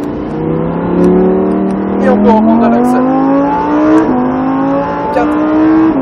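A Lamborghini Huracan on the Salon de Provence race circuit accelerates hard, its engine note climbing steadily through the gears up close and loud, with an instructor talking over the engine throughout.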